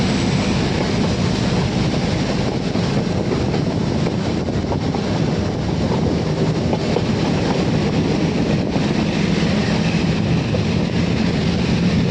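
A toy train on the Ooty mountain railway runs continuously with a steady, loud rattling roar and rhythmic clatter of wheels on the rails, no voices.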